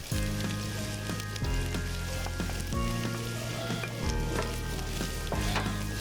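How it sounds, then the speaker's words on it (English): Pork crisps in oil as onions and garlic go into the pan, giving a steady close sizzle of frying with a low humming tone underneath and no talking. "So we'll be adding the onions. And the bawang."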